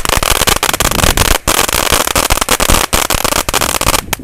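Firecrackers and a firework fountain go off in heavy rain, a dense continuous crackling roar of rapid pops, loud and close, with brief gaps.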